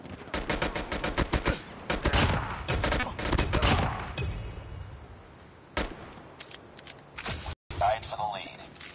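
Bursts of automatic gunfire from a first-person shooter team deathmatch game, a rapid volley of loud shots followed by sparser single shots and game effects, with a player's voice talking over the action.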